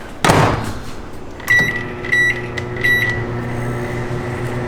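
A microwave oven hums steadily with a low droning tone after its door thuds shut, and three short electronic beeps ring out close by over the running hum.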